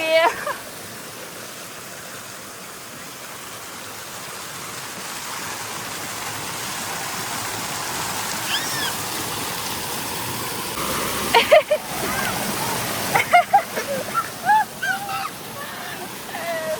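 Strong water pouring from a waterfall feature in a pool at an AQUA CITY water park in Zakarpattia, a steady broad rushing roar that holds throughout, with a few brief louder splashes and knocks near the end.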